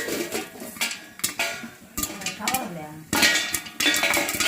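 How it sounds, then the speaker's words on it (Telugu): Popcorn bursting inside a covered pot on the stove, with sharp, irregular pops and metallic clatters against the lid, fairly close and loud, while a person talks over them. "మన పాప్కార్న్ అయితే పేలుతా ఉన్నాయి కదా మూత వేసేసుకుందాం"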